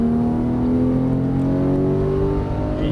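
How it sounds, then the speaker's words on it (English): A Porsche 991 GT3 engine drones steadily on a race track, its pitch rising slowly under sustained throttle, loud and close from inside the car. "And throttle all the way to the orange cones on the right."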